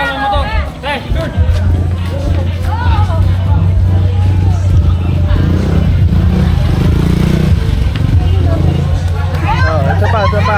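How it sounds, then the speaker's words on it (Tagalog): A motorcycle engine passes amid a loud New Year's Eve street crowd in the Philippines, its low drone running under constant chatter and babble from people nearby. "May motor, may motor."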